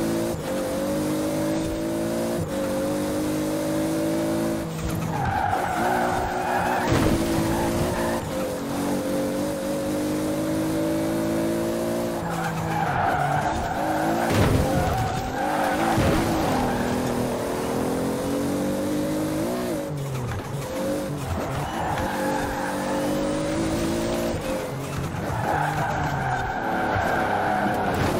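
A Toyota Supra races in the Forza video game, its engine droning and shifting pitch while tires skid and squeal repeatedly, loud and continuous throughout with no talking.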